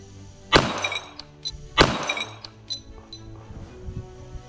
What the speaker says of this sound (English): It broke through three of the plates.